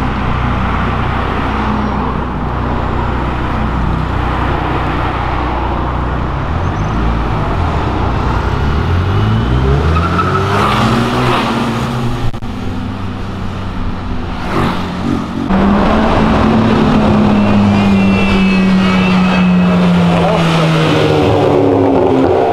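Sports cars, including a Porsche, a Ferrari and a Corvette, pass along a city avenue with loud engine roars that rise and fall as each vehicle revs by close, while people talk throughout.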